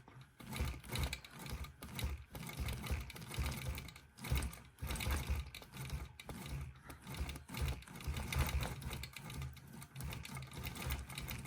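Gammill longarm quilting machine stitching slowly across a gnome table runner beside appliqué, a steady close mechanical whir with rhythmic needle pulses that rise and fall in short runs.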